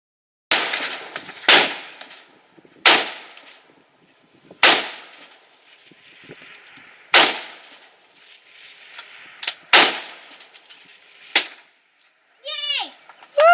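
Sharp gunshots ring out at an outdoor shooting range, about eight single reports spaced a second or two apart, each with a short decaying tail, followed by brief cheering voices at the end.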